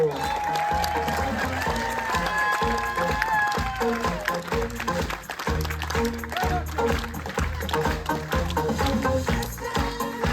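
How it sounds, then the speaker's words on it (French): An audience at a Marina Viva 2025 stage show applauds loudly and steadily, a dense wash of clapping with music and voices mixed in. "On peut applaudir très fort Monsieur Marco."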